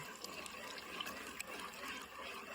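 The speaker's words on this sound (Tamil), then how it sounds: "ஆனா நம்ம இன்னைக்கு வந்து தேங்காய் பால் தான் ஊத்துறோம்" Coconut milk poured into a pot while cooking firni in a country kitchen, a faint steady liquid pouring and trickling sound with soft splashes, alone and quiet throughout.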